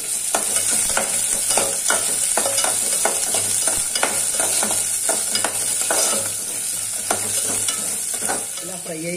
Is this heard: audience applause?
no